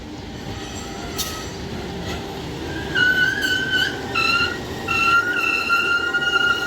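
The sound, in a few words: CC 203 vintage locomotive train shunting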